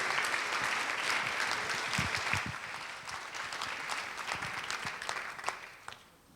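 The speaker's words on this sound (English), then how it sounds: "one more time, I ask you to applaud her" A gala audience claps for an absent honoree, dense steady applause with a few sharper individual claps, tapering off just before the end.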